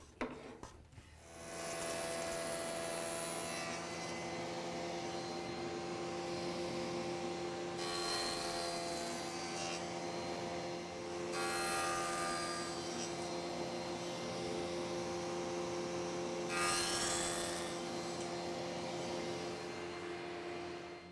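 A table saw runs at a steady hum while cutting a 3/4 inch shoulder in wood set on edge for a workbench, with several bursts of louder blade rasp as the board feeds through.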